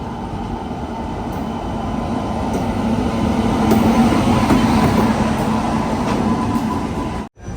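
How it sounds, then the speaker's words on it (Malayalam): A goods train hauled by a WAG-9 electric locomotive rumbles past close by in Kerala, a steady heavy rolling roar with faint wheel clatter that swells and holds for several seconds before cutting off abruptly. "ഇത് ഗുഡ്സ് ട്രെയിൻ"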